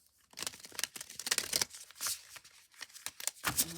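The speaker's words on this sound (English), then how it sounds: "I'll go ahead and get that shuffled up." Guardian of the Night tarot cards are shuffled by hand, producing quiet, close riffling and papery flicks in quick irregular bursts.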